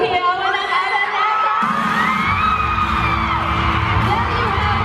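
A large arena crowd at Araneta screams and cheers for Park Seo Joon in Manila, a loud continuous roar of shrieks and whoops that swells further midway.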